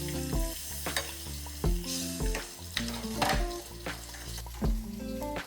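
Butter spitting and sizzling in a hot pan as seared meat is basted with thyme, rosemary, sage and garlic, with repeated rhythmic bursts as spoonfuls are poured over, close and moderately quiet with no voices.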